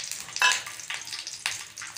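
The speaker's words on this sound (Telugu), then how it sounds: "బాదం పప్పు వేసుకొని వేయించుకుందాం." Raisins and almonds fry in ghee in a pan with a steady close sizzle, joined by a few brief stirring scrapes.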